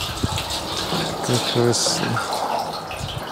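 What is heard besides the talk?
water pouring to fill an Intex Easy Set pool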